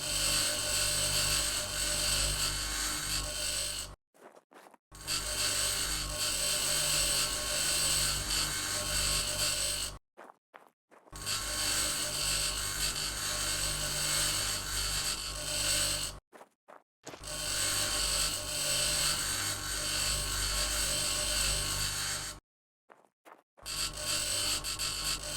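Grinding down objects in the Mars colony-building game Occupy Mars: a loud, continuous mechanical whir in four long bursts of about five seconds each, separated by brief silent gaps, with no talking.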